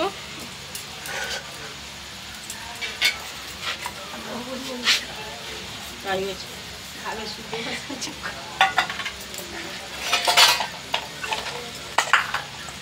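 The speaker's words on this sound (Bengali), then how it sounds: "তো এবার এগুলোকে ভালো করে মিশিয়ে নেব" A spoon works through chicken momo filling in a bowl, giving wet squelching and scraping strokes in uneven bursts, close and moderately loud, with someone speaking at times between the mixing sounds.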